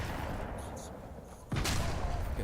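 A weapon fires in a video game, a sharp loud gunshot bursting out suddenly after a stretch of quieter background game noise, with a few following reports.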